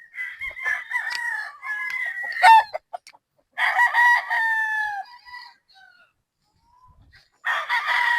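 A two-year-old Sweater Gilmore gamefowl rooster crows loudly and close by, with clucking and other fowl calls between the crows and a brief lull before another call.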